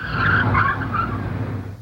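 A car's tires skid hard as it brakes to a sudden stop, a loud, harsh scraping squeal lasting under two seconds and fading slightly at the end, with no voices.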